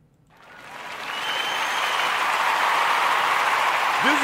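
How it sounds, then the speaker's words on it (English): A round of applause swells in from near silence and holds as a steady, moderately loud wash of clapping, with a brief voice cutting in at the very end. "y'all get another round of applause for that"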